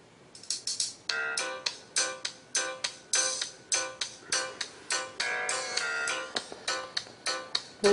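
Music with a strong rhythmic beat plays loudly and clearly from the built-in speaker of an HTC Titan phone near maximum volume, a steady run of punchy repeated notes filling the whole stretch.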